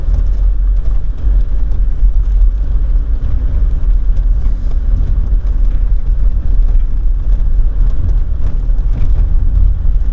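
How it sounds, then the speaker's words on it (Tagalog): A vehicle drives along a rural road in Magsaysay, Mindoro Occidental, heard as a steady low rumble that stays fairly loud for the whole stretch, with no clear approach or fade. "may sasakyan na nakadaan"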